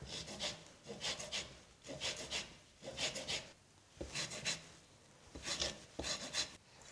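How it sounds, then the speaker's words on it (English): Oranges are zested on a fine microplane grater for Italian ricotta donuts, with close, rhythmic rasping strokes in quick bursts of two or three, separated by short pauses. "Now the next step is to zest our oranges."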